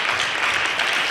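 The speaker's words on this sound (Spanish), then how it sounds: "vamos a darle un aplauso al Señor por Lucía" Brief, steady clapping from a church congregation during a Spanish-language service, a dense wash of hands with no pauses.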